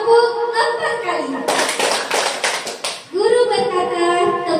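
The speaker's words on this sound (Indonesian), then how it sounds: "Guru berkata, tepuk 4 kali." A group of children claps in unison in a classroom, a short burst of about four quick claps with voices speaking before and after.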